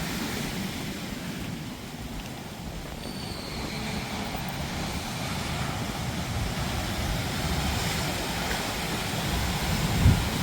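Rough seas surge against a rocky shore during coastal flooding at Anchangadi, a steady, dense roar of heavy surf with no distinct breaks, heard alone throughout.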